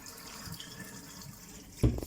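Tap water running through a household water filter: a faint, steady trickling flow that turns into a sudden louder gush just before the end.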